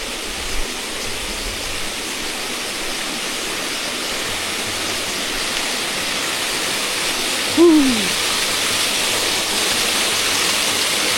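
A waterfall in a dense forest pours with a steady, full rushing hiss from start to finish, and a brief higher swooping call rises over it midway.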